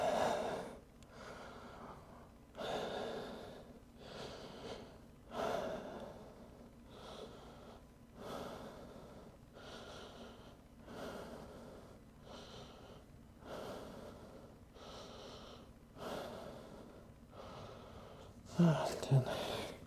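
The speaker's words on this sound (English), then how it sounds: "Breathe in deep" Deep, slow breaths taken during a yoga handstand practice, repeating in steady cycles about every two and a half seconds, close and soft, with a brief sharper exhale near the end.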